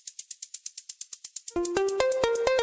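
A white-noise layer in the SynthMaster soft synth, voiced to sound like a garden hose, pulses in quick rhythmic hissing bursts for about a second and a half before a pitched synth part enters and plays alongside the steady hiss.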